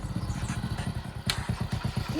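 A motorcycle arriving close by, its engine giving a rapid, rhythmic thumping putter at a steady pace, with a brief rattling clatter partway through.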